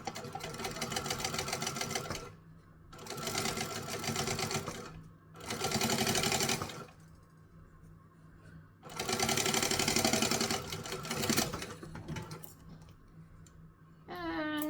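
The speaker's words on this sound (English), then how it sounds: "we're going to top stitch that down at 1/8 of an inch" A sewing machine topstitches a seam on a mini crossbody bag in several steady, loud whirring runs of a few seconds each, separated by brief pauses, close up and without talk.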